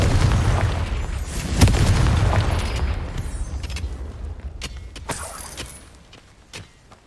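Confringo fire spell blasting in the Hogwarts Legacy video game: a loud booming explosion rolls and rumbles over several seconds, with sharp crackling bursts on top that fade toward the end.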